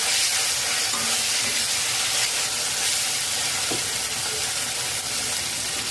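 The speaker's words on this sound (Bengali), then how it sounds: "ক্যাপসিকাম দিয়ে এক মিনিট নাড়াচাড়া করে নিয়েছি" Capsicum stirred and fried in a pan for a kofta curry, giving a steady, close sizzle with light stirring scrapes throughout and no voices.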